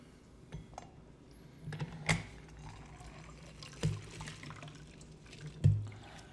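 Lemon juice goes into a big batch of loose-leaf green tea as a faint liquid trickle, with a few soft clinks and splashes, up close and quiet.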